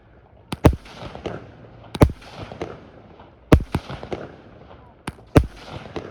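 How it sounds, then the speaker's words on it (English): Victoria Day fireworks bursting outdoors at a park in North York, Toronto: sharp booming explosions in pairs and clusters, each followed by crackling tails, with people faintly talking and cheering in between. "I want more and more fireworks for Victoria Day."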